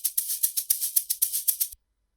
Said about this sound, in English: this shaker right here. It's a loop.